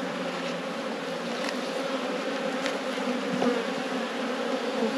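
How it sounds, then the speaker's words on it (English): Honey bees swarm close around a hive, pressing at a lid laid across its side, making a dense, steady buzz that holds without a break from start to finish, with no voices. "We've got bees trying to get into that lid that I put across the side there."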